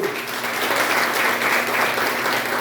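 Church congregation applauding during a Sunday sermon, a dense, steady wash of many hands clapping together, sustained and fairly loud throughout.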